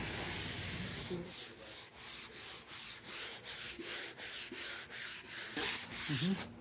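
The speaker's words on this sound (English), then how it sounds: "we're sanding these out now with some 100 paper" Steady rhythmic sanding strokes on wood with 100-grit sandpaper, a repeated scratchy back-and-forth rub, close and continuous with a few faint low sounds underneath.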